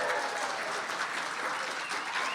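A conference audience claps and cheers on request, a dense, steady burst of applause and crowd noise that runs for a couple of seconds.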